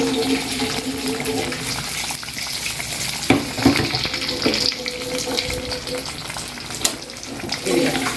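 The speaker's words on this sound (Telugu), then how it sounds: "తాలింపు ఇలాగ ఫైనల్ టచ్ ఇలా తాలింపు వేసుకుంటే గోంగూర మటన్ కర్రీకి చాలా బాగుంటుంది" Tempering for an Andhra-style gongura mutton curry frying in hot oil, a steady sizzle with a few sharper spits and bursts partway through, close and fairly loud.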